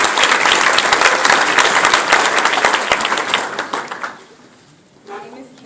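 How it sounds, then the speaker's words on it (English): An audience gives loud, dense applause at a testimony gathering. The clapping stays strong for about four seconds, then fades out, and a voice follows. "So let's give Kendra a hand clap."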